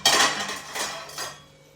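A metal lid lifts off a covered pan of prawn roast with a short clatter of metal on metal. Two softer clinks follow as the sound fades.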